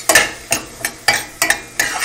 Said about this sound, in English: That is sizzling pretty good now.